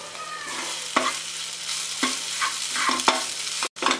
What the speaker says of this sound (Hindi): आइए अब गरम मसाला, चाट मसाला और नमक डाल के हम स्टफिंग को अच्छी तरह से हिलाएंगे।